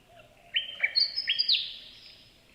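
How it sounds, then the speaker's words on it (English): Willy wagtail call played back from a recording, a short series of bright, sharp chirps and whistles in a quick rhythm, clear and alone. "It was a willy wagtail."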